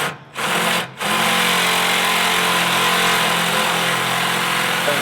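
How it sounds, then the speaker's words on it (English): A power drill with a half-inch bit whines steadily at close range while fitting a lift kit on a 2023+ Ford F-250/F-350, pausing briefly twice near the start before running continuously at a constant pitch. "We're going to finish off with a 1/2 inch drill bit here for our 1/2 inch hardware."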